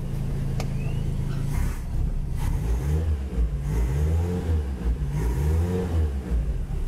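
An old Chevrolet pickup truck's engine revs up and down near the mic in several rising and falling pushes, after a short low idle, with no talking.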